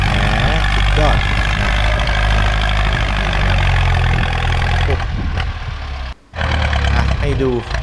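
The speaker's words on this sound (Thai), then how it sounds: "ฟังเสียงเครื่องยนต์เสียงท่อลั่นเพราะๆครับ" A heavy Ford tractor diesel engine, pushing soil, roars and rumbles loudly up close, its exhaust booming and surging, with a voice talking over it at times.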